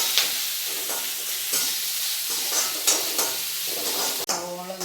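Onions and garlic sautéing in a pan for koottukari, a close, constant sizzle with rhythmic scraping strokes of a spoon and a brief clatter near the end.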